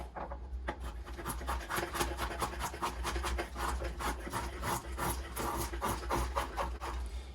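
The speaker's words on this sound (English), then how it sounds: "my axe work is not great, so I'm gonna switch over to the draw knife." Draw knife shaving a wooden spoon blank during hand carving, a steady run of rasping, scraping strokes repeated close by at an even rhythm, with a low constant hum underneath.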